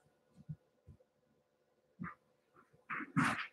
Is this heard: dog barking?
yes